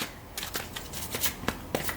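Tarot cards being shuffled by hand in a quick series of crisp riffling bursts, close and clear with no talk over them.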